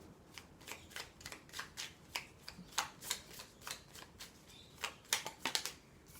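Oracle cards shuffled by hand for a reading, a steady series of crisp papery riffles and slaps repeating about every third of a second, close and soft, with no voices.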